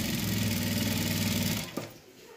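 A sewing machine stitching a blouse runs at a fast, steady mechanical whir, then stops abruptly with a small clunk, leaving quiet room tone.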